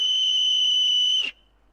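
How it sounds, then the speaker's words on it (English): One shrill, steady blast from a cheap, ordinary whistle at a constant high pitch, held for about a second before it cuts off abruptly. "it's dead easy to convert a cheap, ordinary whistle like this"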